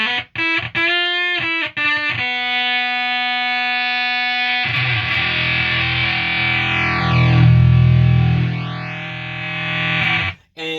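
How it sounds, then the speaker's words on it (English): A square wave distortion module on a modular synth gives a 60s-style nasal fuzz tone: short clipped synth notes first, then a long buzzing sustained drone with sweeping filter-like swells, loud and alone. "nasally fuzz sound"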